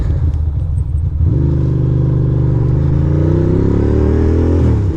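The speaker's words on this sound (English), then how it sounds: "Riding my little motor bicycle" A small motorized bicycle engine drones steadily while riding, loud and close, with a rising buzzing pitch as it picks up speed after a brief lower idle at the start; no talking.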